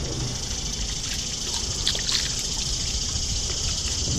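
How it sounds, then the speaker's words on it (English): Running water rinses a freshly cleaned Atlantic sharpnose shark, a continuous close trickling splash that stays fairly even throughout. "Rinse this off"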